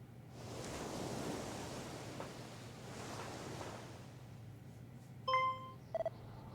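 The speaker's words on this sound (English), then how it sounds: "I hear waves" Ocean waves wash in long, soft swells in the Dragon Quest I & II HD-2D Remake game, a steady surf hiss rising and falling, joined near the end by a few short chiming menu tones.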